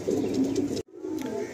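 Andhra pigeons cooing inside a loft: soft, low rolling coos repeating close by, broken by a brief silent gap before the cooing resumes, with a faint chirp or two.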